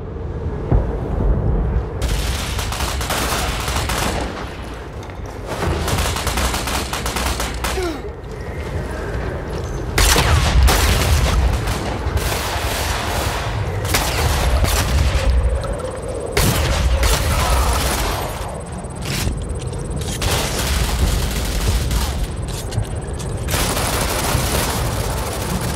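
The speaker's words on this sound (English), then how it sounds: "Let's try this shotgun." A shotgun fires again and again in a first-person shooter video game, with loud booming blasts and clanking action sounds repeating irregularly over a constant background of game noise.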